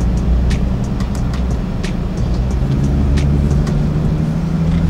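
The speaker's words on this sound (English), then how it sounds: "on the way out, we gotta hear that exhaust." An Infiniti G37 car drives off with a steady, loud exhaust drone, a deep rumble holding close and constant with sharp little ticks and clicks above it.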